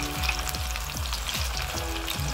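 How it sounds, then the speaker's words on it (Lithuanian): Cabbage patties fry in an oiled pan, a steady close sizzle and crackle with soft repeated scraping as they are turned, no voices. "Atvertinam, kepinam kitą pusę."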